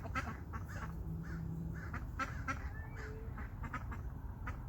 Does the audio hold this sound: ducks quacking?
yes